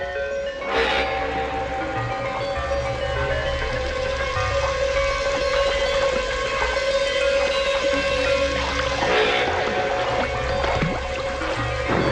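Fast-moving river rapids rush in a steady, loud broadband roar that continues unbroken for the whole stretch, with faint sustained tones running underneath.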